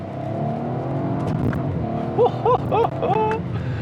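A 2021 Audi RS4 estate's engine hums steadily close by, with a few short revs rising and falling near the end, on a narrow country lane.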